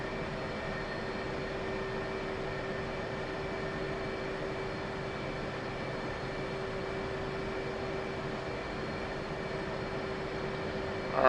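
An F/A-18C Hornet jet rolls for takeoff in the flight simulator DCS World, a steady loud engine roar with constant whining tones that swells slightly at the end.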